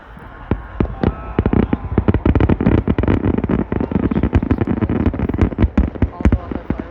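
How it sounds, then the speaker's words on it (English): Dense barrage of fireworks bursting at a July 4th show in Plainfield, sharp booms and crackles firing in rapid, overlapping succession, loud and close, with people talking over the display. "All the other fireworks."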